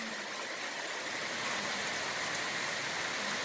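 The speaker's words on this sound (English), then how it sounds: "the bands of rain showers have started" Rain bands from Tropical Storm Ophelia fall in a steady, even wash of rain, soft and constant with no voices.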